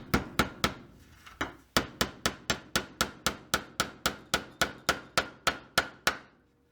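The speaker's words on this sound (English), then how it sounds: "take our nail and our hammer and we're going to pound it in" A hammer drives a nail into wood while building a rustic farmhouse-style display platform, about twenty sharp, evenly spaced strikes ringing out close and loud, with no talk.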